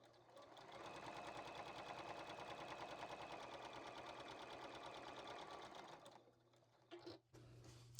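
A sewing machine runs steadily, stitching quilt fabric strips together with a quarter-inch seam, a dense continuous whirring buzz close by that stops near the end, followed by a couple of brief handling clicks.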